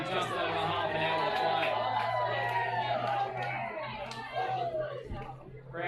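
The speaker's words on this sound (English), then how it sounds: "Crowd becoming a bit lively as well." Lively crowd at a rugby qualifying final at Twickenham, a steady murmur of chatter and hubbub beneath a commentator talking throughout, the crowd noise moderate and spread out in the background.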